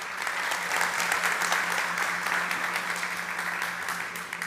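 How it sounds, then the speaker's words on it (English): A conference audience claps steadily through a round of applause at a startup summit stage event, a dense even patter of many hands held at a constant level with no voices over it. "One more time, a big round of applause, please, for Mario from Link Hub."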